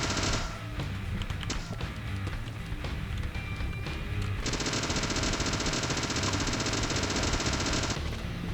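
Rapid gunfire from the video game Deadly Premonition, a dense rattling barrage that runs steadily and loud through the whole stretch, heaviest in the second half, over a busy game soundtrack.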